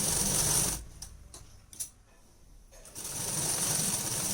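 A sewing machine stitches fabric for a latkan tassel in a short run of quick mechanical clicks and ratcheting ticks, set between stretches of steady background hiss.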